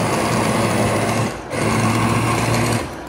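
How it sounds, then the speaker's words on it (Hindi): An electric hand beater grinds cooked lentils and wheat in a pot, a loud continuous motor whine that dips briefly midway before running on steadily. "अगर आपके पास बीटर है, हैंड बीटर है, कुछ भी है, उससे आपने इसे ग्राइंड करना है।"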